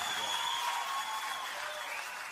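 A live audience at a traditional sertanejo music show claps in a brief, dense burst after a song ends, with faint lingering tones threaded through the steady clapping.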